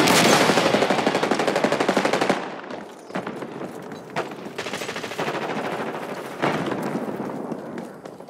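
Gunfire in Call of Duty Black Ops 6 multiplayer, with a loud, close burst of rapid automatic fire followed by further sustained bursts and sharp single cracks, dense and continuous with no talk.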